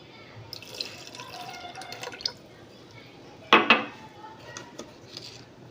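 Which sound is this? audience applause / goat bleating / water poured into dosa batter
water poured into dosa batter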